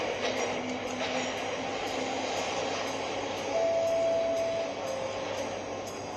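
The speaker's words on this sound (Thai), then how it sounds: "โอ้โหรถไฟไม่รอขึ้นรถไฟไม่ทัน" A train rumbles steadily in a video game station, with a sustained whine rising partway through as it pulls away, alone without voices.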